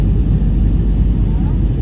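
Steady cabin roar inside a passenger airliner descending toward Goa, a dense low engine and airflow rumble that holds constant and loud throughout.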